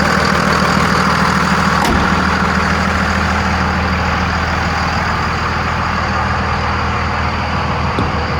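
A 2500 Dodge Ram 4x4 pickup's Cummins 5.9L diesel engine idles steadily nearby, a continuous low rumble with an even, unbroken drone and no talking.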